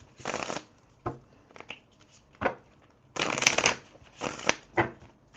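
Oracle cards being shuffled in a tarot-style reading, several close riffling bursts with short pauses between, heard alone without talk.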